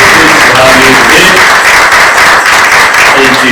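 A crowd of students at a speech in Kenya breaks into loud, sustained applause, dense clapping filling the room without pause.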